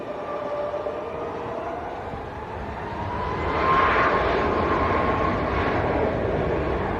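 A Boeing 737 airliner taking off, its engine roar a broad steady wash that swells and grows louder midway, heard from a distance with no talking.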